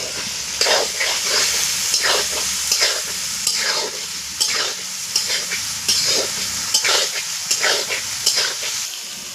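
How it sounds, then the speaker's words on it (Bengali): A spice paste for a soybean and pointed gourd dish sizzles steadily in a pan while being stirred, with regular scraping strokes every second or so and no talking. "এবার ভালো করে এবার কষিয়ে নেবো মশলাটাকে।"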